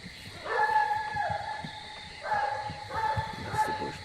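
Coonhound barking in repeated bursts during a competition hunt at a coonhound world championship final, the bays ringing out at moderate distance over outdoor night ambience, two clusters of barks separated by a short lull.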